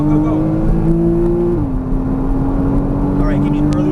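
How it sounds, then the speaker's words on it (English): A Porsche Cayman S goes to full throttle out of a corner on a race track, its engine droning steadily with a brief pitch dip as it shifts, while an instructor's voice coaches over it. "Squeeze more, full throttle coming out. Go."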